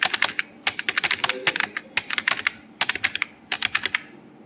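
Rapid bursts of computer keyboard typing as a registration number is entered into an online form, with clicky keystrokes in quick clusters separated by brief pauses, close and clear.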